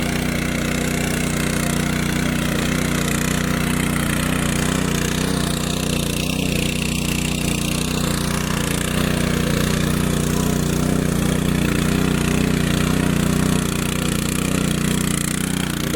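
A tractor works a monsoon paddy field in Konkan (Kumbhavade), turning the first furrows of soil; its engine drones steadily and loudly throughout, a continuous mid-pitched rumble with no talk.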